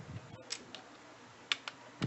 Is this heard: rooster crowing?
no